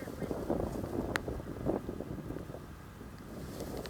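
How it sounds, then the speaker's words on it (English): Wind gusts in Yellowstone National Park as the weather turns toward freezing rain, making a low, steady rumble of buffeting against the microphone. "And here it was getting a little windy"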